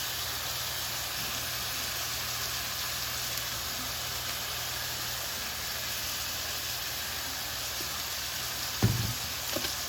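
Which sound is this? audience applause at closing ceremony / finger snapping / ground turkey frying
ground turkey frying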